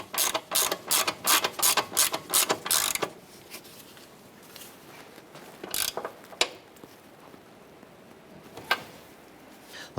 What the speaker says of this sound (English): go ahead and tighten down our upper ball joint nut here.